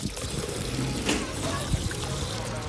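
Cold spring water flows steadily at a free drinking spot in Macedonia, with a continuous close trickle and splash over low background rumble.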